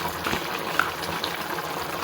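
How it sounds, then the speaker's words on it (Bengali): Marinated small fish set gently onto a simmering vegetable curry, with a steady close bubbling hiss and soft gurgles continuing throughout. "এই যে মেখে রাখা মাছটা আমি এখন এই তরকারির ওপর আস্তে আস্তে দিয়ে নেব।"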